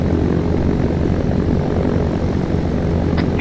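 A Cessna propeller plane's engine in the Arma III video game, after taking a hit to the engine, drones loud and steady at close range, a constant throbbing roar with no speech.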